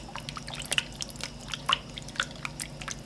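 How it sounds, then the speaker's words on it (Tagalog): Water drips and splashes into a pan of melted margarine and flour, with scattered small liquid plinks and squishy spatters at close range over a quiet kitchen background. "Nagbuhos lang ako ng tubig dito."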